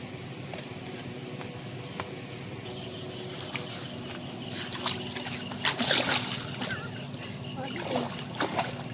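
Water is poured over someone's head during a shampoo bath in the Sundarbans, giving uneven splashes and sloshing that swell to a burst of pouring, with people talking throughout.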